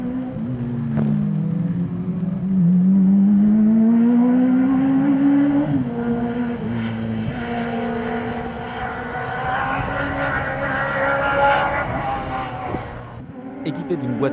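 A Formule France race car with a 200-horsepower Suzuki Hayabusa 1300 engine, 6-speed sequential gearbox and 560 kg weight runs with a rising, high-revving engine note. The pitch climbs through a gear and then holds under a speaking voice.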